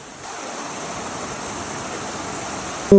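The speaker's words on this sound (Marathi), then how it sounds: "संध्याकाळी धबधब्याचा आवाज ऐकतो तुम्हाला सगळ्यांनी" Steady broadband rush of a waterfall near a lake at dusk, a continuous close roar of falling water that fills the whole clip without pause, with no voices.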